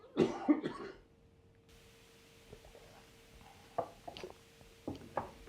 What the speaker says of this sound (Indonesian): Sorry gue batuk.